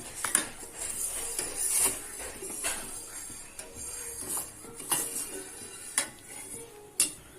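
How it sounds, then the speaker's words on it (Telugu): A spoon stirs milk in a pot, producing light, irregular metallic clinks and scrapes against the pot over a soft background hiss. "పాలు మేగడ కట్టకుండా కలుపుతూనే ఉండాలి"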